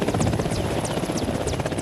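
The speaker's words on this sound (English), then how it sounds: "They call this running rotor, a pit stop so fast they keep the blades running just in case." Military helicopter with its rotor blades turning during a running-rotor pit stop, a loud, steady close-up whir with rapid blade chop throughout and no talking.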